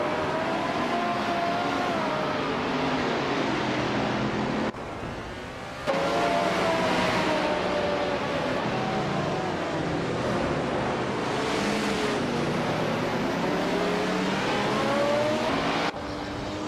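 Race cars, among them a 1972 Lola T280, roar around a circuit in a racing video game. Engines drone loud and continuous with rising and falling revs, and the sound briefly cuts between camera views.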